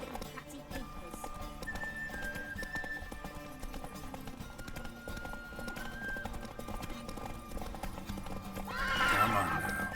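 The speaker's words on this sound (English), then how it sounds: "Whoa there, Roach." Horse hooves clip-clopping with a whinny near the end in the video game The Witcher 3, steady hoofbeats under background music and a voice calmly talking to the horse.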